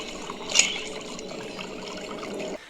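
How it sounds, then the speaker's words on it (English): Vodka pours into a cracked mug in a movie scene, a soft liquid trickle with a small clink near the start, running for a couple of seconds before stopping abruptly. "As she starts off and pours some vodka into a mug,"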